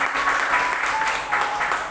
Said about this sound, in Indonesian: Yang percaya beri tepuk tangan yang meriah bagi Tuhan Yesus.